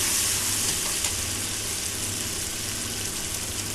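Spice paste frying in hot oil tempered with black cumin, a dense continuous sizzle with a crackly spitting texture, close and steady, with no speech.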